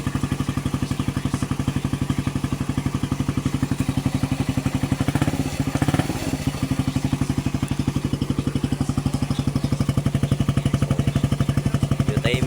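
A Suzuki Raider 150 carburetor motorcycle idles in first gear with the rear wheel spinning free, a steady close mid-pitched engine putter with rapid even firing pulses and a brief clattery bump midway.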